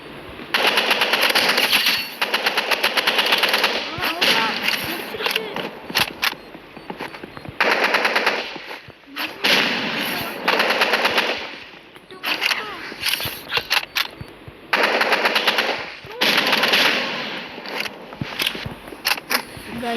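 Assault rifle gunfire in a shooter video game rattles in long, loud automatic bursts separated by brief pauses, repeating over and over in the foreground.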